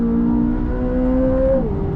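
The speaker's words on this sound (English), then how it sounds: "that engine behind us has not only got a great sound" Chevrolet Corvette Z06, a mid-engined sports car, accelerating hard on a race track, its engine note rising as a loud, steady drone close by before a gearshift drops the pitch near the end.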